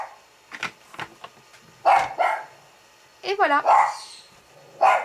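A female pet dog, Elfie, barks in sharp bursts and yips indoors, likely at the neighbours' cat, several barks spread across the moment while someone talks nearby.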